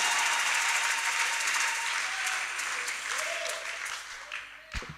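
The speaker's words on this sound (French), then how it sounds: "Est-ce qu'on peut faire le bruit par des acclamations?" A church congregation applauds and cheers throughout, a dense sustained roar of clapping and voices that gradually eases toward the end, with a sharp knock just before it finishes.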